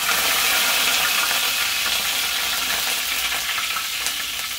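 Cumin seeds and curry leaves frying in hot oil for an ash gourd curry, giving a loud, continuous close-up sizzle and crackle that eases slightly toward the end, with no voices.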